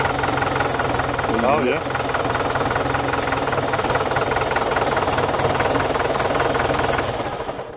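Auction tractor engine running with no clutch, a loud, steady, knocking diesel rumble close by throughout, while someone talks briefly over it.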